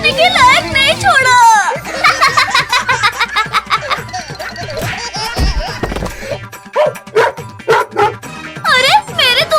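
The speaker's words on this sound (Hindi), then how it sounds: "ये कुत्ता आज हमें नहीं छोड़ेगा" Cartoon dog barking in a comedy animation, short yips and barks mixed with children's cartoon voices talking and shouting over playful background music, loud and busy throughout.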